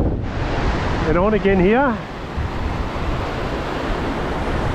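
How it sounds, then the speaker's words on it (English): Ocean waves breaking on a beach in windy, rough conditions, a steady broad roar of surf and wind noise, with someone speaking briefly over it. "the waves are breaking at the front, or just where the gutter drops over"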